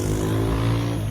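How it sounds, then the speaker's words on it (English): Loud motorcycles pass close by on a rainy night, a dense droning engine roar that stays strong and steady for about a second. "more loud motorcycles"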